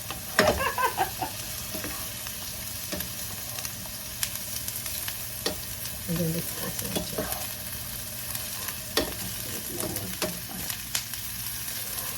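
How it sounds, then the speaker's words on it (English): Food sizzles steadily in a hot pan while a utensil scrapes and stirs now and then; a person speaks briefly over it. "Now you saute that for about 3 minutes"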